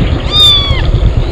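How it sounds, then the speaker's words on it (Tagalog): A cat gives a single loud, clear meow lasting about half a second, rising then falling, close by outdoors near a creek with a low background rumble. "Humiyak yung pusa."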